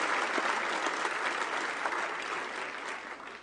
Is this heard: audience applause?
yes